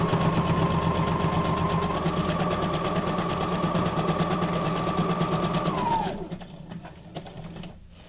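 A sewing machine stitches around a journal card cut from a guest check, running in one steady, close whirring burst for about six seconds before stopping, followed by faint handling noise.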